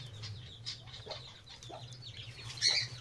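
Soft, scattered clucks from a hen over a low steady hum, with a sharper, louder squawk near the end.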